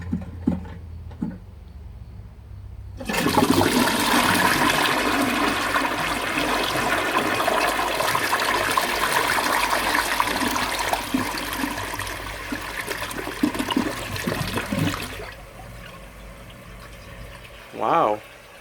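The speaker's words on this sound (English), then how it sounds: "Universal Rundle flush." A rare 1957 Dresden Blue Universal Rundle toilet, tank lid on, flushes with a sudden loud whoosh of rushing water lasting about twelve seconds, then drops to a quieter trickle of refilling; a brief voice is heard near the end.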